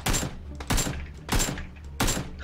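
Gunfire in the battle royale game PUBG: four distinct bursts of shots spaced roughly every two thirds of a second, moderately distant, each with a short echoing tail.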